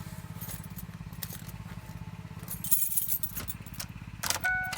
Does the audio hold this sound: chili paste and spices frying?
no